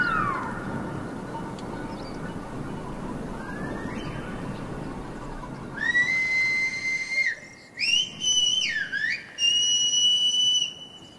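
Silbo Gomero, the whistled language of La Gomera in the Canary Islands: a series of loud, sliding whistled phrases with rising and falling pitch, set apart by short gaps, following a few seconds of quiet outdoor background.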